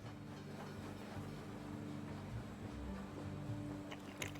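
A ghost train rolling along in the World of Goo 2 video game, a faint, continuous low rumble with light clatter and a soft hiss, with no talking.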